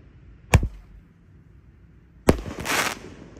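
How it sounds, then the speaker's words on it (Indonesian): Two jumbo Roman candle shots from a large 49-shot firework cake burst out about two seconds apart, each a sharp crack followed by a fizzing, crackling tail, the second louder and longer, with no talk. "menyalakan banyak sekali mercon dan Roman Candle yang jumbo"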